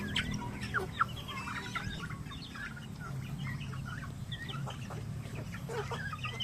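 A mixed flock of native and Rhode Island chickens and turkeys clucks and chatters at a moderate distance, many overlapping calls over a low steady rumble, no voices present.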